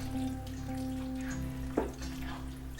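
Pasta stirred into a colorful vegetable giambotta in a pan, a soft continuous sizzle with a steady hum and one brief scrape of the spoon, close and alone.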